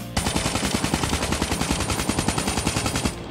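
A KN-44 rifle in COD Mobile fires one sustained full-auto burst, a loud, close, rapid and evenly spaced stream of shots lasting about three seconds before stopping abruptly, heard alone with no talking.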